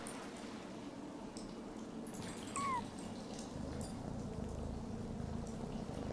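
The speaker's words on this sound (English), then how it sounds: "Where's the cat?" A cat gives a single short meow midway through the Yonder: The Cloud Catcher Chronicles video game, faint against a steady wash of outdoor ambience.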